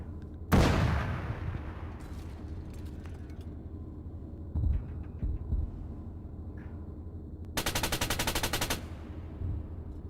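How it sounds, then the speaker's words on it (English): Machine gun fire heard from over a kilometre away in Arma 3: scattered distant shots and thumps across a quiet background, then a sharp, rapid rattling burst of automatic fire lasting about a second. "when you shoot the machine guns at them, they go in this massive arc right up in the sky and then drop down on them"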